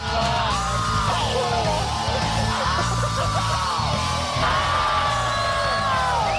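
A repeated scream sound effect from a home renovation show loops several times, each a loud rising-and-falling yell over a dense, busy backdrop.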